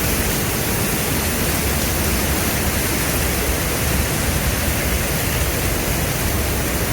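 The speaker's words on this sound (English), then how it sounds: "that's the freaking waterfall" Massive waterfall in Baños, Ecuador, seen from near a suspension bridge: a steady, dense roar of rushing water that holds constant and loud throughout, with no voices.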